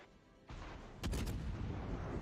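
Warship guns fire in the naval combat game World of Warships, a deep booming salvo that swells suddenly and loudly, then rolls on as heavy rumbling, with no speech.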